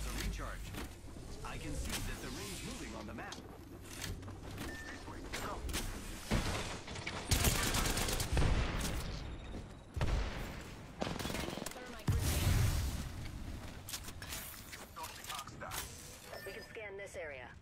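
Rapid bursts of gunfire crackle through a battle royale video game match, volleys of automatic fire mixed with mechanical clicks and impacts, loud and continuous over game sounds.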